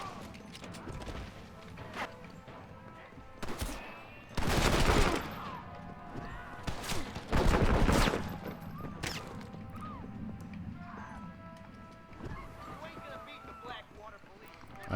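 Gunfire and crashing impacts in Red Dead Redemption 2, with loud bursts of shots around four to five seconds and again near seven to eight seconds, mixed with game effects and someone talking over the action.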